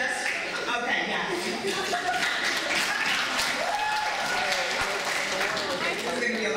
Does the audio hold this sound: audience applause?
yes